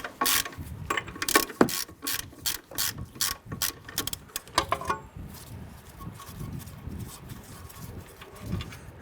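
A ratchet loosens the nuts on the ball joint bolts of a 1994–2004 Ford Mustang, giving fast bursts of clicking pawl strokes up close, then a steadier, quieter stretch of low rubbing and metal handling.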